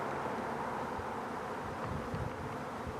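Honey bees buzzing as a dense, steady drone from a swarm cloud outdoors, continuous and fairly close with a faint rough texture throughout and no voices.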